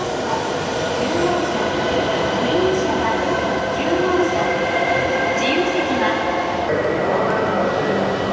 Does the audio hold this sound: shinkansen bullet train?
yes